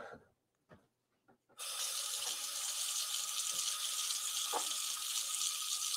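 Tap water runs into a sink, starting abruptly after a few quiet knocks and then streaming steadily and close for several seconds with no speech.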